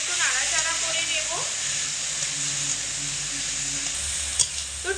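Chopped tomatoes being stirred in a sizzling pan for a potato curry, steady frying hiss with scraping stir strokes, a couple of sharper clatters near the end.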